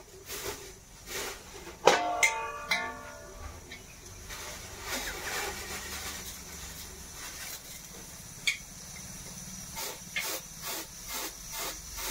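Steam hisses in bursts from a pressure cooker with rice and dal, a sharp, whistling release early on, followed by quieter intermittent hissing and a few clicks, no talking.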